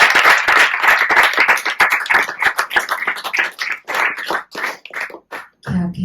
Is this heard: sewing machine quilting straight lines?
no